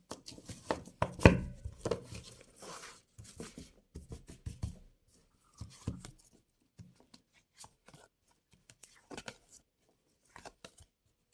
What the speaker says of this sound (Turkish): tarot destenizi de şöyle hızlıca bir kere karalım